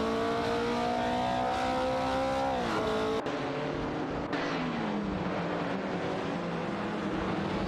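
Video-game racing cars, a Ford Escort Mark I and an Alfa Romeo, drone steadily with layered engine tones that dip in pitch as they shift or pass, a continuous loud racing roar with no talk.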